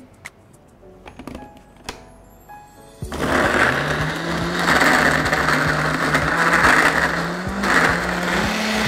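A few light clicks and clatters, then a blender whirs loudly to life and grinds steadily for several seconds, its motor pitch shifting slightly.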